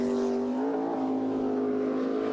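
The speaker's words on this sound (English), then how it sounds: "The 670 cubic inch big block configuration engine dynamics boat comes rocketing around the turn" A jet boat with a 670 cubic inch big block engine races at full power, a loud sustained engine roar with steady harmonic tones that rise slightly as it rockets around a turn, with no voices over it.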